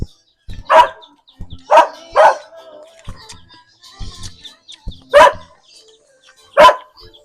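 A dog barks five times in loud, spaced bursts, close by, with quiet rustling and faint thuds between barks.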